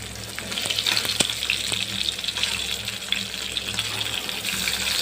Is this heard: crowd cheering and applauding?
no